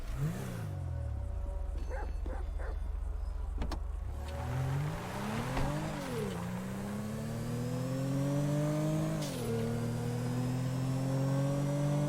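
A car in a video game, heading toward Paleto Bay, starts up and drives off with a steady engine drone that climbs in pitch as it revs through gear changes, loud and continuous throughout.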